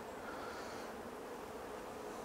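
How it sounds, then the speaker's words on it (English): A steady, faint hum of honey bees feeding on syrup from a container at a hive, continuous and even throughout with no voices. "The bees are feeding"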